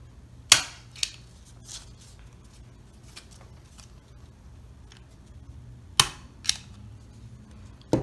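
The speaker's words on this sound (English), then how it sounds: "Okay, so now it's the stapler part. You have to staple twice." Paper being stapled with a handheld stapler while making a paper decoration flower: two sharp, loud clicks close together near the start, then a second pair of crisp snaps a few seconds later, with quiet rustling between.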